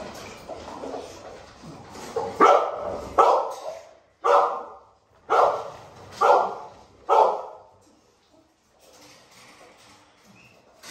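Dogs at a home breeding yard with puppies bark in about six loud, close barks spaced a second or so apart, followed by quieter background noise and soft whimpering.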